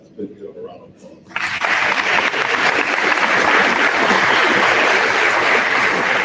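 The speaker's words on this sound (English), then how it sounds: "Big deal, a round of applause." A crowd at a senior awards ceremony breaks into loud, sustained applause for the graduating class, a dense wash of clapping that starts abruptly after a short quiet moment and keeps going steadily to the end.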